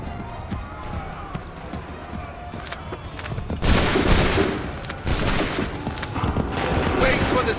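A musket volley crashes out in Assassin's Creed III, a loud crackling burst of many shots that comes in two heavy waves and rolls into scattered gunfire and battle noise, with a voice shouting commands underneath.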